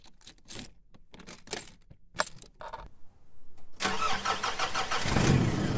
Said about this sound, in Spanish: Te acercas a tu camioneta y procedes a arrancar.